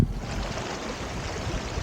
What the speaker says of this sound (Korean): 시원한 계곡 물소리 들리시죠?